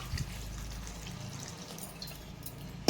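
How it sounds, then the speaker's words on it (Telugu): Water pours into a pot of raw banana curry, a soft continuous liquid splash and gurgle heard close up and fairly quiet, with no voices. "ఇప్పుడు దీంట్లో నీళ్ళు వేసుకుందాం."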